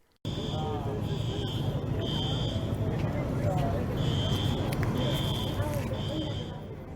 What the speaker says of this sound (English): so that's the sound of the alarm that we actually heard and got in the middle of the night